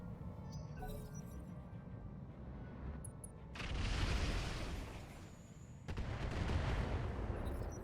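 Missile fire aimed at a light LRM turret in the RogueTech BattleTech mod, two heavy rumbling salvos with booming impacts, the first starting partway in and the second following a few seconds later, steady and loud.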